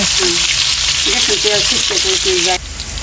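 Potatoes fry in a pan with a loud, dense sizzle throughout. A voice speaks briefly over it, then the sizzle drops a little near the end.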